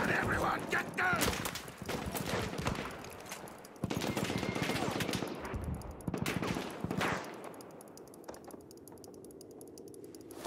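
Machine gun fire rattles in Battlefield 1 cavalry gameplay as dense, rapid bursts of gunshots, loud and close at first, then thinning out into a quieter backdrop.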